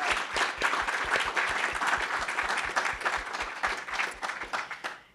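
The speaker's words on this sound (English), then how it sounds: "Can we get a little clap?" Audience clapping at a literary journal launch event, a modest crowd producing fairly quiet, distinct individual claps that continue steadily before tapering off.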